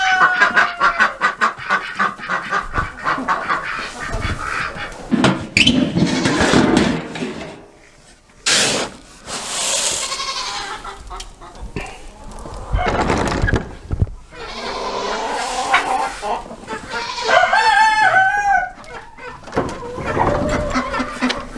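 Chickens cluck and squawk close by amid shuffling movement on snow, with a person talking intermittently over the birds.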